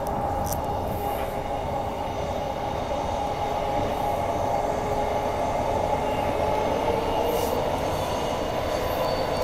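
A Perth passenger train from Thornlie runs steadily with a constant rumble and a high whine, heard from inside, with faint squeals now and then.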